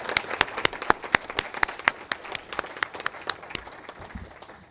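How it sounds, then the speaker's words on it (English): At a transit authority board meeting, attendees give a brief round of applause, with distinct hand claps that start strong and then thin out over a few seconds. "I just want to ask everyone to give him a quick round of applause and thank him for his services."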